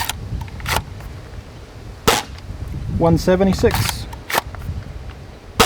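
Shots from a modified air gun fired over a chronograph: several sharp, loud single cracks spaced a second or more apart, with a voice reading out numbers between them.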